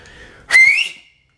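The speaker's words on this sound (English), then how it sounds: "I love to do the wolf whistle." A single loud wolf whistle, sliding upward then cutting off after about half a second, ringing slightly in an echoey indoor room.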